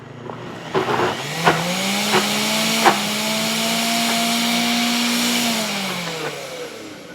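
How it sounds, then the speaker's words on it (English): A kitchen blender purees pumpkin in a steady, loud whirring run that rises, holds for several seconds, then winds down, with a few clunks at the start. "So if you want to continue blending it, you can definitely blend it."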